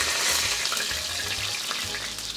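Chicken breast sizzles and crackles in oil in a frying pan, a steady close hiss with small pops throughout, no voices over it.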